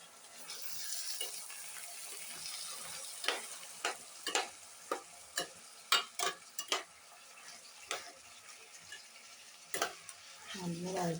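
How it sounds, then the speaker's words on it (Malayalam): Mango ginger sautéing in oil for a pickle, a low steady sizzle with a string of sharp clicks and scraping stir strokes against the pan. "മാങ്ങഞ്ചി നല്ല എണ്ണയിൽ വഴറ്റുക"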